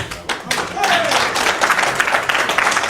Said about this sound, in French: Je voudrais que vous applaudissiez très très fort.